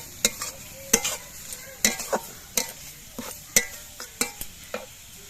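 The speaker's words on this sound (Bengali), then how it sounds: "চিনি দিয়ে নেড়ে চেড়ে মিশিয়ে নিতে হবে" Radish stalks fried in a pan with a little sugar added, stirred with sharp intermittent scrapes of the spoon over a soft, steady sizzle, close and moderately loud.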